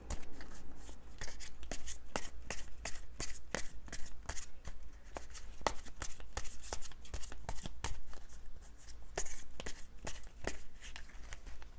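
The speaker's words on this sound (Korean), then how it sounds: "두 분 관계의 흐름에 대해서 제가 추가 카드로 한번 뽑아보도록 할게요" Tarot cards are shuffled and drawn during a love reading, a steady run of crisp riffling snaps and slaps repeating rapidly and close-up for nearly twelve seconds, with no voice over them.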